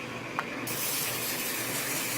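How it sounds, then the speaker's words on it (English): A short burst of Pam cooking spray hisses steadily onto a cheesecake pan for a couple of seconds, close up, with a faint click at the start. "we're going to spray it with a little bit of Pam."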